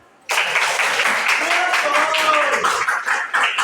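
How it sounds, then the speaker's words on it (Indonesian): A class of students breaks into clapping after an Islamic education lesson on inheritance division, starting abruptly and continuing loud and close, with voices mixed in. "Tepuk tangan semua."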